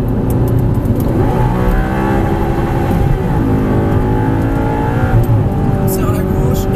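An Audi R8 goes to full throttle on a racing circuit during a driving course, its engine note climbing loudly through the revs close up while a voice talks over the roar.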